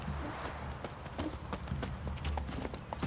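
Geralt's horse Roach in The Witcher 3 trots with a steady, even clip-clop of hooves close by, continuous over a low ambient game background.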